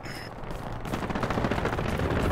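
Gunfire in the video game Hell Let Loose builds into a dense, rapid rattle of shots, close and loud, with a short tone at the start and no clear talking.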